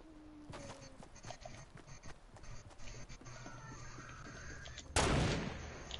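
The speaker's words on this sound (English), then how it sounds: "Oh shit, I hear shooting." Gunfire in the video game Fortnite, a few sharp cracks over light clopping footsteps, ending in one loud close blast that fades out.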